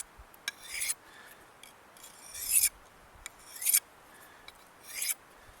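A Bill Siegel knife is drawn along a Gossman sharpening steel in four or five separate strokes, each a short, bright metallic scrape with pauses between, close and fairly quiet.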